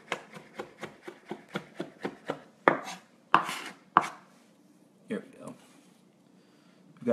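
A knife mincing garlic on a cutting board in a home kitchen, a quick run of evenly spaced crisp taps followed by a few heavier scraping chops, close and clear.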